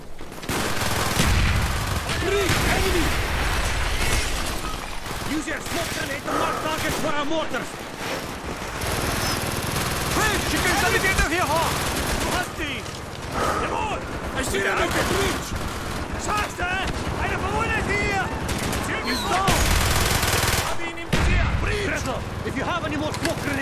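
Dense gunfire from the PC game Call of Duty Black Ops, in the Project Nova mission, rattles in loud, nearly continuous bursts, with shouted voices mixed in.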